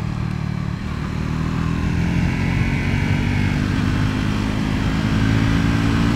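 A Triumph Scrambler 400 X / Speed 400 motorcycle accelerating hard, its engine a steady, loud, close drone that holds throughout without a break.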